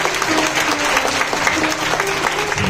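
An audience at a gathering breaks into steady, dense applause, many hands clapping together at a constant level throughout with no voices standing out.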